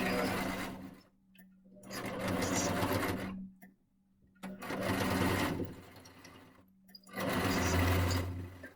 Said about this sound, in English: My sewing machine is a little funky.